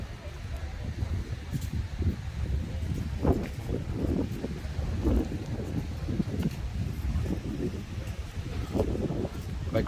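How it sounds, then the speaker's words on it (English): Strong wind blows outdoors in a shopping and restaurant area of Gran Canaria in the Canary Islands, a steady low rumble buffeting the microphone for the whole stretch, with faint voices underneath. "Apologies if you can hear the wind."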